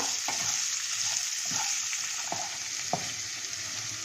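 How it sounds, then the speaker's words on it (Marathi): Cabbage, carrots and cashews sautéing in oil over a low gas flame, a steady soft sizzle with a few stirring scrapes, close up and without talk. "आपण आता हे गॅस फ्लेम स्लो ठेवून भाज्या परतूया"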